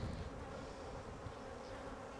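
Honeybees buzzing around an open hive while nucs and splits are being assembled, a dense, loud, steady drone of many bees close by, with no talking.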